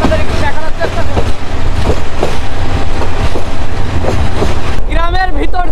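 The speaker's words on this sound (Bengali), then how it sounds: "খুবই দারুণ লাগছে সৈকত এক্সপ্রেস ট্রেনে" Saikat Express passenger train running on rails through hilly countryside near Bandarban, a loud steady rumble with rhythmic wheel clatter throughout, a brief squealing or voice-like tone near the end.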